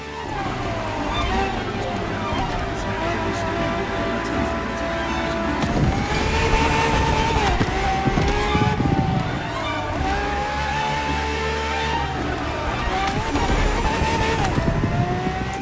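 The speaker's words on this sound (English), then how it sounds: "for this second lap, you'll be driving the FXXK" In The Crew Motorfest, a Ferrari FXXK, a track-only LaFerrari-based hypercar, races at full throttle with a loud, sustained engine howl that rises and falls through shifts. A dense, busy background sits beneath it.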